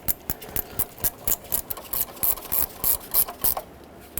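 A ratchet wrench snugs a new nut and lock washer onto the starter stud of a 2007-2010 Chrysler Sebring, giving a steady series of quick metallic clicks in short bursts, close up.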